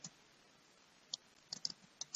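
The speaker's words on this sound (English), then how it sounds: "Then you can type the message" Computer keyboard typed on while setting up a Google account, a few faint, sparse clicks in a near-silent room, ending in a short cluster of keystrokes.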